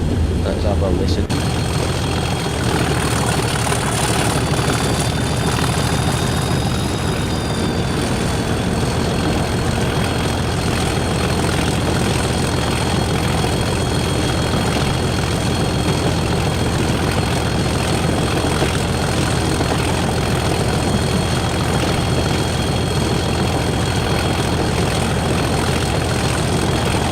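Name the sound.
Class 97 diesel locomotive engine running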